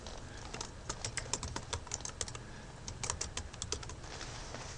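Steady typing on a computer keyboard, a close run of quick, irregular key clicks over faint room noise, with no talking.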